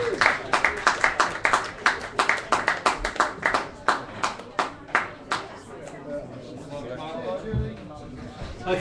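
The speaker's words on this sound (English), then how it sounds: "Give him a massive round of applause, Matt Jarvis" A small audience claps for Matt Jarvis after his set at the RMA, a run of sharp, fairly sparse handclaps that thins out and fades into background murmur and chatter.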